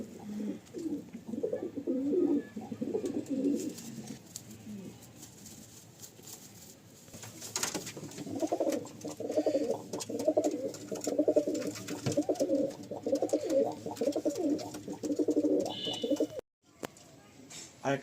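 Pigeons in a loft cooing in soft repeated low phrases, close and fairly quiet, pausing briefly mid-way before resuming, with occasional faint talk in the background.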